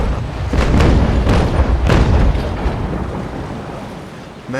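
Broadside cannon fire from a brig in the Naval Action naval combat game: several heavy booming shots in quick succession, loud and close, over rolling ocean and wind noise that trails off after the volley.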